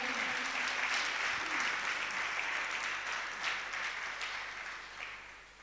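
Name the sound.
audience applauding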